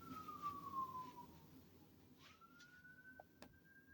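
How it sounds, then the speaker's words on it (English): A faint siren wails in the distance, one falling tone then a rising one, with quiet background hum. "You hear the sirens?"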